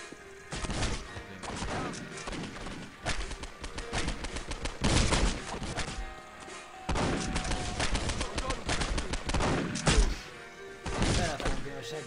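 Rapid bursts of gunfire from the video game Postal 2 fill the stretch, dense volleys and single thuds repeating without letup under a steady game soundscape, with faint voices mixed in.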